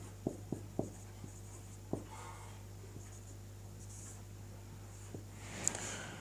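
A Sanskrit word being written by hand comes through as a handful of faint, sparse taps and scratches over a low steady hum in a quiet room.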